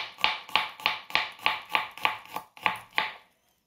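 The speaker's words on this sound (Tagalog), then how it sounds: "Chop pa natin ng mas pino" Garlic being chopped with a knife on a cutting board while prepping ingredients for pork sisig: about ten crisp, evenly spaced chops close by, then a stop, with no talking.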